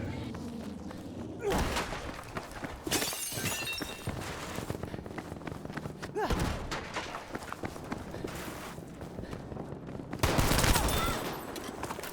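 Gunfire in the World War II shooter Battlefield V during a Conquest match on the Arras map, with rapid bursts of automatic fire and sharp shots at close range, separated by brief lulls over the game's background noise.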